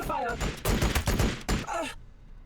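Bursts of gunfire ring out in a Warhammer 40000 Battlesector multiplayer match between Tau and Adepta Sororitas, a rapid, loud volley lasting about two seconds before cutting to quiet.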